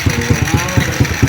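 A tricycle engine runs loud and close, pulsing in a quick, regular beat of about five throbs as it revs, with no speech over it.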